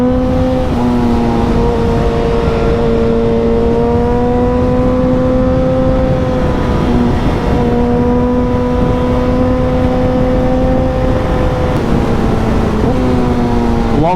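High-performance motorcycle engine at steady high revs while riding, a loud continuous whine with pitch dips and climbs as quick-shifter gear changes snap through, heard close up alone over wind noise.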